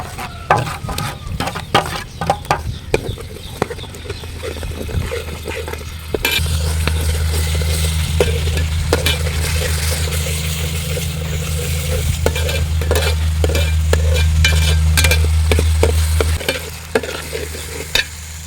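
Ground tomato added to sautéed garlic for a beef biryani fries in a pot, with a steady close sizzle, a low burner hum and repeated scraping and clinking from stirring, no voices.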